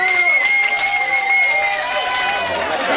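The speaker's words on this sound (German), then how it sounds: "Einen großen Applaus bitte." Audience at a bachata dance show in a club in Tübingen claps and cheers, loud and close, while sustained music tones and a voice run beneath the applause.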